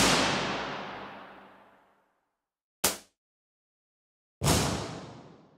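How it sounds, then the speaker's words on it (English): Reverb impulse responses: three separate sharp, loud bangs, each followed by a decaying reverb tail. The first and last tails ring out for roughly two seconds and the middle one dies away quickly, with silence between them. "An impulse response sounds like this."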